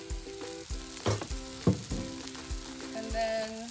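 Food sizzles and spatters in hot oil in a pan while pieces are flipped, with steady crackling, soft thuds and scrapes, and a faint tonal hum underneath.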